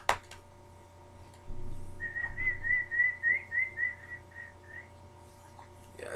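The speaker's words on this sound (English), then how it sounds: "Yeah, I suck at whistling." A person whistles a wavering, stuttering tune of about a dozen short pulsing notes, close and fairly clear over a low room hum, preceded by a few clicks and shuffles.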